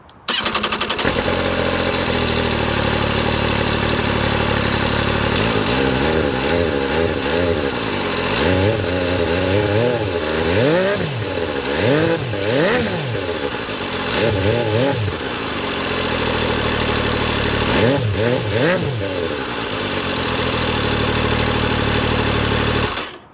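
An MV Agusta Superveloce 800 three-cylinder engine idles, then revs repeatedly in sharp rising and falling bursts through its triple exhaust, loud and close, before settling back to idle.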